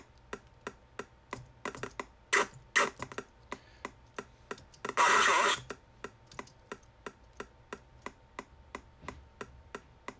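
Computer keyboard keys are pressed while Castle Wolfenstein is played, giving sharp, evenly spaced clicks in a steady rhythm, broken up by a few louder bursts of game noise.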